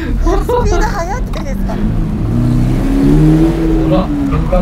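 A Toyota GR86 with a 2.4-liter engine revs on a race circuit, its engine note droning steadily and rising in pitch while people talk inside the car over it.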